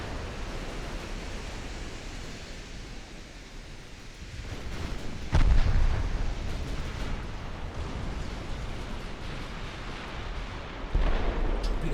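Naval guns and torpedoes firing in a warship game, a roaring wash of battle noise with a heavy gun boom midway and another near the end, no voices.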